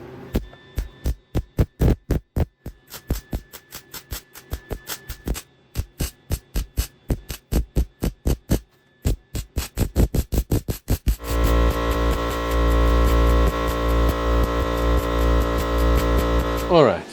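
Series of short, sharp spot-weld bursts on the inner fender panel of a 1966 Triumph GT6, evenly spaced pops that speed up before giving way to a longer continuous buzzing weld, all close and loud.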